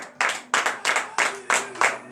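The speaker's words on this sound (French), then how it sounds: "Donne de vive encore acclamation à l'Éternel." Six sharp claps ring out in loose rhythm, each loud and close, as a congregation claps in acclamation during morning prayer.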